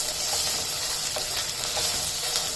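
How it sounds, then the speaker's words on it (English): Green chilies, seven or eight split in half, crackle and sizzle in hot oil in a pan for a veg biryani, a steady close frying hiss with small popping bursts and no talk. "And then we'll add the green chilies."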